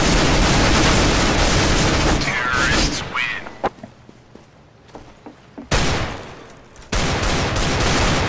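Loud Counter-Strike: Global Offensive gunfire fills a sustained opening spray, then drops to scattered single shots and clicks in quieter game sound before two more sharp bursts break in near the end.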